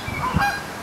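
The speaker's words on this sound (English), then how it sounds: "the geese start to come and bark" A single short goose honk, fairly close and clear, with a soft rumble of background noise.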